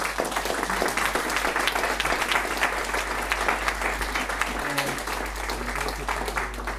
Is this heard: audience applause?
yes